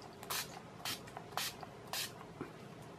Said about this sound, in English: I'm going to go in with some setting spray.